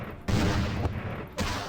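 Bursts of gunfire in the game Vampire the Masquerade Bloodlines, two loud volleys separated by a brief gap and then another burst starting, punchy and close.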